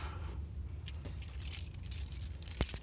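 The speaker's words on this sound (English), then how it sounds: "going to turn on the vehicle" Car keys jangle near and loud in short rattling bursts while a 2014 Chevy Spark is being started, with a low steady hum underneath and a couple of sharp metallic clicks near the end.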